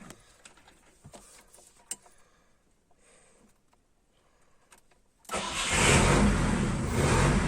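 A GAZ 2410 car engine cranks and fires up in a garage after quiet clicks and handling noises, then settles into a loud, steady idle close by.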